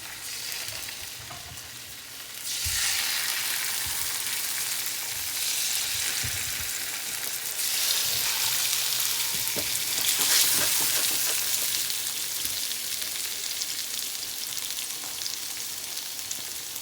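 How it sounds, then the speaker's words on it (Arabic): Salmon fillets frying in hot olive oil in a pan, a steady, close sizzle that swells louder as the fish goes in and holds for the rest of the clip, with a few faint clinks. "درت فيها انا الزيت الزيتون وهو سخون، غادي نحطو عليها. غادي نضيف ليها الصومو"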